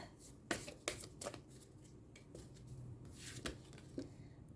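Oracle cards shuffled by hand, a quiet series of crisp riffling snaps and papery flutters in irregular bursts, close and without any voice.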